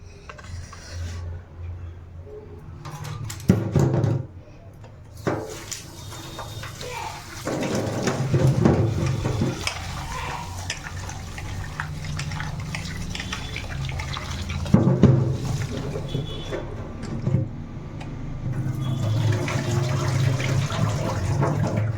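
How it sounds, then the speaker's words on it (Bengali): Cut bottle gourd rinsed under running water in a home kitchen, a continuous splashing and trickling flow with clatter of pieces being handled, fairly close and steady throughout. "এবার জল দিয়ে ধুয়ে নেব।"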